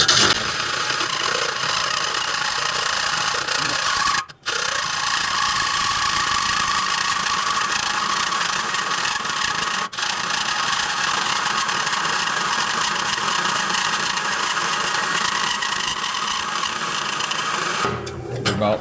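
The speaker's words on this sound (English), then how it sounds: "The hole saw is going to run." A drill press cutting with a hole saw whirs continuously with a grinding, vibrating hum, running steadily with a couple of brief dips.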